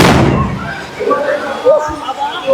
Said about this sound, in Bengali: সুন্দর আতশবাজি, সেই আতশবাজির প্রদর্শন